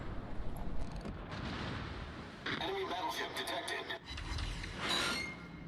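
Naval gunfire in a video game: 180mm guns firing armour-piercing shells, heard as heavy booming salvos that rumble on through the clip, with a bright crack of fire near the 2.5 s and 4.3 s marks and speech over the top.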